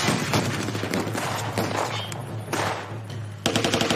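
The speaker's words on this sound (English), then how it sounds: "So they're going to bring out their guns and start shooting at them." Rapid automatic gunfire from the villains in a monster movie, loud, dense bursts of shots rattling continuously with short pauses, over a low steady hum.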